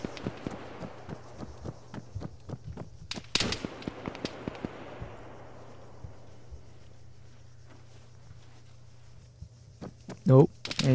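Gunfire in the shooter game Argo: a rapid run of sharp shots over the first few seconds, then a loud close burst near three seconds, quieter scattered shots after, and a heavy blast near the end.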